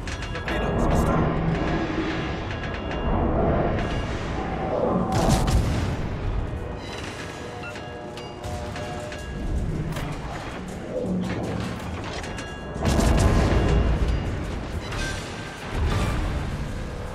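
Torpedo launches and naval combat in World of Warships, with booming explosions and mechanical clanks from a cruiser battle, steady and loud throughout with bursts of heavier impacts.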